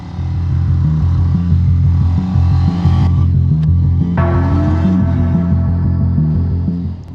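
A Triumph Speed 350 (350cc) motorcycle engine runs close and loud with a steady, throbbing low rumble and slight shifts in pace throughout, with no talking.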